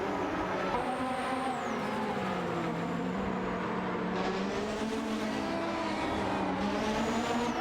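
Several race car engines, including a Lotus 100T, in an AI racing video game, with high whining engine tones rising and falling as cars shift and pass in a close battle, loud and continuous.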